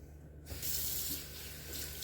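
A kitchen tap starts running and rinses raw chicken in the sink, a steady splashing rush of water that carries on close by.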